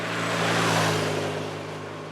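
A 2016 BMW R1200 R motorcycle's engine grumbles and growls, a steady low throbbing hum with a loud rough drone close by, running alone without talk.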